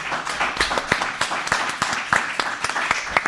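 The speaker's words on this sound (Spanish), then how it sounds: "vamos a agradecer, por supuesto, con un fuerte aplauso a nuestras panelistas en la participación en este seminario" A seminar audience claps for its panelists, a brisk run of sharp, close handclaps spread evenly through the moment, with no voices heard.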